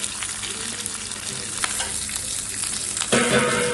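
Sliced onions hit hot tempering oil for a vegetable dappalam, giving a steady loud sizzle and crackle throughout, with a sharper surge of frying near the end.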